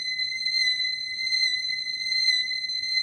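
A whirled noisy toy makes a steady, shrill whistling tone that wavers slightly in pitch as it swings toward and away, over a faint low rumble.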